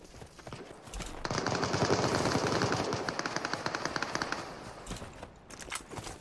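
Rapid automatic gunfire from the video game Super People rattles in a sustained burst of dense, evenly spaced shots, then breaks into shorter separate volleys, at moderate loudness with no voices.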